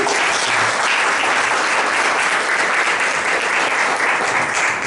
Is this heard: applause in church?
yes